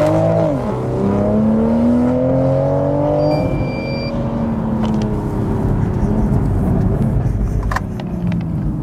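A Toyota Supra on winter tyres launches hard from a standstill to 100 km/h, with a loud, close engine whose pitch climbs through several gear changes and then settles into a steady, droning high-speed roar.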